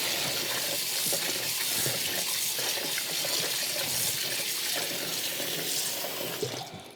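Salt pork being rinsed under a running kitchen tap, a steady close gush of water hissing into the sink for several seconds before easing off at the end.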